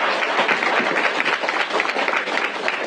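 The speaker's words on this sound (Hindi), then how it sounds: "एक बार जोरदार ताली दीजिए।" Brief burst of loud, dense audience applause at a motivational success-mindset talk, a steady wash of clapping for about three seconds.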